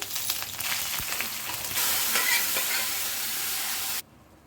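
Mustard seeds and cumin crackling in hot oil for a tempering, a loud continuous close sizzle that swells midway and then cuts off abruptly near the end.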